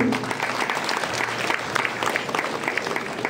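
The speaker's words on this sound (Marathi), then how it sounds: "आणि आमच्या पाहुण्यांना परत एकदा मोठ्याने टाळ्यांचा कडकडाट होऊ दे." Guests at an annual day prize distribution ceremony receive a round of crowd applause, steady dense clapping from a large audience, moderately loud and uninterrupted for a few seconds.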